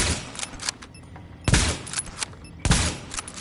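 Automatic gunfire from The Division video game rattles out in three sustained loud bursts, separated by brief quieter gaps with lingering reverberant battle noise.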